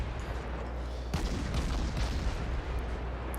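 Ship guns fire in a naval video game, a dense heavy rumble of artillery with a sharper burst of booms about a second in, sustained and loud throughout.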